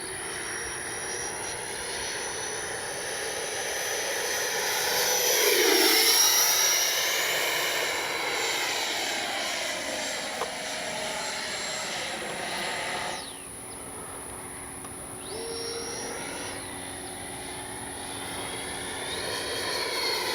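An FMS 80mm F-86 Skyblazers electric ducted-fan RC jet cruises at about half throttle, its steady high-pitched whine swelling as it passes close around the midpoint, then fading with a shift in pitch. No one speaks over it.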